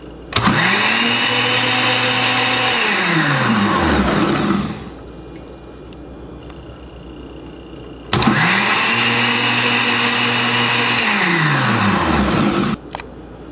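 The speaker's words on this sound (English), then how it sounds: "Go bit by bit into the blender and blend." A blender whirs loudly in two bursts while blending ingredients for Cameroonian yellow soup, each spinning up and then winding down, separated by a short quiet pause.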